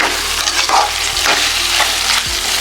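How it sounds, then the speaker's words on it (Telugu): Biryani masala frying in a pot while being stirred, a steady close sizzle broken by scraping strokes of a spoon against the pot bottom, with no voices. "బాగా ఎప్పటికప్పుడు మనం కలుపుకుంటూ ఉండాలి, లేదా ఇలాగ అడుగు అంటిపోద్ది."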